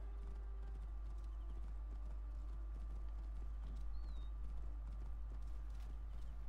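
Rhythmic clip-clop of horse hooves on hard ground in a video game, steady and fairly quiet, with a low constant hum underneath.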